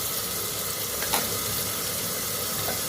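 Green chili pieces sizzle steadily in a hot pan of oil, a continuous close frying hiss with one brief louder crackle near the start and no talk.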